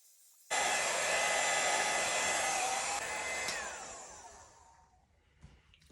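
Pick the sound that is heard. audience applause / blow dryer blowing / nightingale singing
blow dryer blowing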